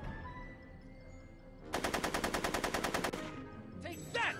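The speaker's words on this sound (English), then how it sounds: "Are you shooting at me?" Rapid automatic gunfire from a Back to the Future video game, a loud, evenly spaced burst of about a dozen shots lasting over a second, with quieter game sounds before and after.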